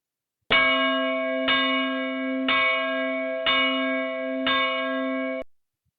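High-pitched church bell rung as a tocsin alarm, five bright, loud strokes struck at a steady pace about one second apart, each ringing on with a long sustained tone until the next.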